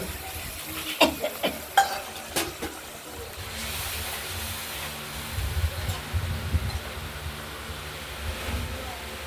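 Masala with potato and pointed gourd sautéing in a pan: a steady close sizzle and hiss, with a few sharp scrapes of stirring early on and a brief rumble of stirring later.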